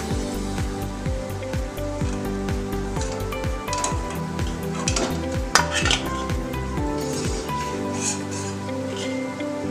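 Palm fruit fritters frying in oil on a medium flame, a steady bubbling sizzle with repeated stirring and scraping clicks of a utensil in the pan, close and continuous.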